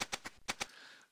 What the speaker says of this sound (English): just degrade it back just with some simple bit crushing techniques